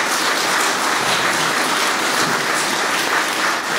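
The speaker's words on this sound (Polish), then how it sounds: "Wielkie brawa." Concert audience at a New Year's concert in Rąbin gives a sustained, even round of applause, dense and continuous throughout with no talk over it.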